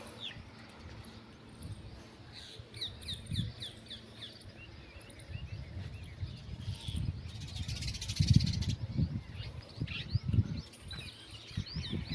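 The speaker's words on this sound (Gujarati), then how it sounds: "અહીંયા તમે જો ચકલાનો અવાજ સાંભળો" Sparrows chirp in quick, repeated high tweets throughout, heard from an upper floor, with outdoor background rustle and occasional louder thumps and noise in the middle.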